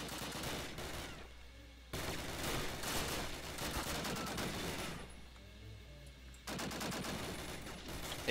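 A BAR rifle in the classic Call of Duty fires in three bursts of rapid automatic shots, loud and punchy, with short quiet gaps between the bursts.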